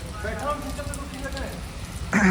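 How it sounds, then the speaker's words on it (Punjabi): Steady rain patters across a surface as a soft, continuous hiss, with a voice faintly talking underneath and a louder voice cutting in at the end. "ਮੀਂਹ ਅੱਜ ਤੇਜ਼ ਪੈ ਰਿਹਾ ਬਾਈ"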